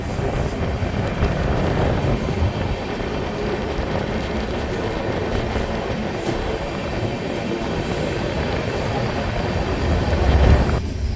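The Gour Express pulls away from Nalhati station with a continuous loud rumble and rattle heard from inside a general coach, the wheels clattering steadily throughout and a brief louder thump near the end.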